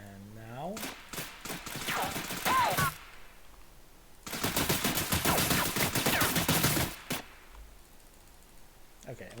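M16 rifle fire in an Unreal Engine 4 first-person shooter, with a burst of rapid shots early on and a longer sustained stream of automatic fire in the middle, each loud against near silence.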